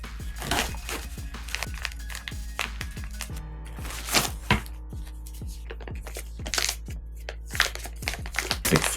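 A plastic bag is handled up close, with a steady run of sharp crinkles, rustles and crackles in irregular bursts and no talk.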